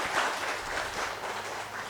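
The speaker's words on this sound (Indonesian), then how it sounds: "tepuk tangan untuk tiga narasumber kita" A crowd applauds steadily for three speakers at a community health talk show in Serang, Indonesia, a dense wash of clapping hands that holds at an even level throughout.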